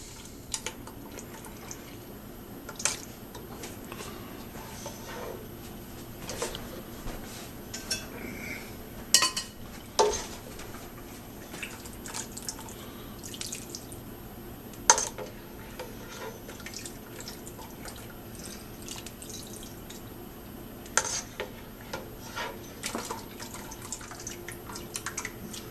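Fresh mozzarella curds are scooped out of a pot of whey, with dripping and trickling liquid, soft splashes and scattered light clinks of a utensil against the pot, close and fairly quiet over a steady background hum.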